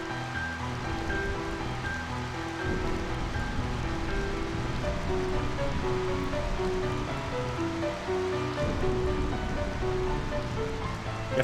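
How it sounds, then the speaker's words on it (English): Steady rain pours in Final Fantasy IX, a constant hiss of falling water mixed with soft background game music tones, even and continuous with no talk. "Try not to drown in there, Santa, it's raining right now."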